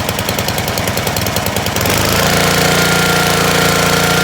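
A gas pressure washer engine runs close and loud just after a pull start, its rapid chugging firing rhythm at first choked and uneven, then settling into a smooth, steady roar.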